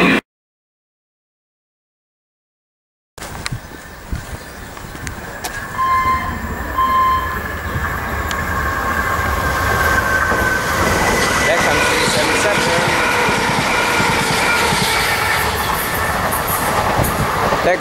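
Southern Electrostar class 377 electric multiple unit at Preston Park station, a steady rail rumble that builds after a short silence and then holds loud and continuous with faint wheel squeal tones, with some background voices.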